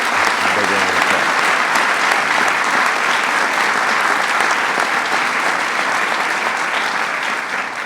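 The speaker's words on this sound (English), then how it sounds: "Please give Mike a big round of applause." Sustained applause from a large crowd at a presidential announcement fills the whole stretch, loud and steady, tapering only slightly toward the end.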